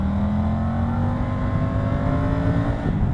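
A 2020 Triumph Tiger 900 GT Pro motorcycle pulls hard in third gear from about 40 to 70 mph, its engine note a steady, loud drone that rises gradually in pitch under wind rush, with no talking.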